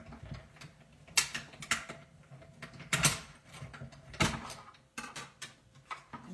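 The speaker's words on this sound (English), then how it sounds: "I'm going to put this over in my little mini Stampin' Cut and Emboss machine over here" A small Stampin' Cut and Emboss die-cutting machine being cranked, giving a series of creaking mechanical clunks and ratchety clicks with uneven gaps, close and moderately loud, no talking.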